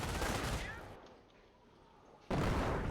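MG42 machine gun and mortar fire in the Company of Heroes game, with loud bursts of gunfire at the start, a quieter lull, then another burst of shooting at the end.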